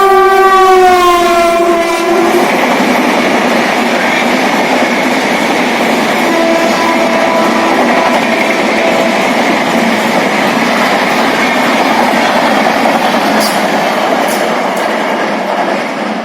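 An electric EMU local commuter train between Avadi and Chennai Central runs loudly and continuously, opening with a rising electric whine that fades into a steady roar of wheels and carriage rumble.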